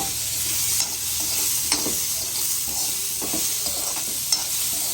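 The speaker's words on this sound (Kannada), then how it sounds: "ಇವಾಗ ಮಾವಿನಕಾಯಿ ಮತ್ತು ಟೊಮೆಟೊವನ್ನು ಆ ಒಗ್ಗರಣೆಗೆ ಹಾಕ್ಕೋಬೇಕು" Raw mango and tomato hit a hot spiced-oil tempering, producing a steady close sizzle with faint scraping and stirring clicks throughout and no voices.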